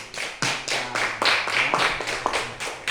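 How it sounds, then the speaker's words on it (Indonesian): A small group of classroom students clapping together for a classmate, with rhythmic, fairly close hand claps in a steady pattern of repeated bursts and no talking over them. "tepuk tangan dulu untuk Pino"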